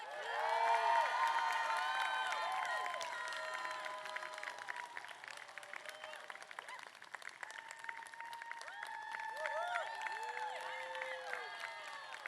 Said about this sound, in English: Let's give a round of applause for all of our MDiv graduates.